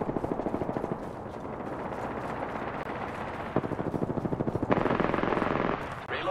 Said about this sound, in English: I'm taking shots. I am taking fire, friends.